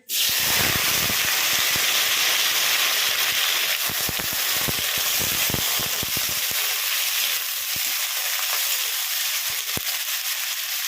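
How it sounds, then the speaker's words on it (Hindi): Finely chopped onions fry on a high flame with a loud, continuous sizzle and hiss throughout, broken by occasional scrapes and clicks of stirring close by. "प्याज को हम हाई फ्लेम पे गोल्डन ब्राउन होने तक भूनेंगे"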